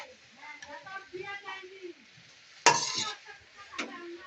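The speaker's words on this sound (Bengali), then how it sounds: "এখন পুঁই শাক দেওয়া হলো মশলার ভিতরে।" Malabar spinach stirred into spices in a pan, with soft sizzling and a spoon scraping and clinking against the pot, quiet and close, while someone talks over it.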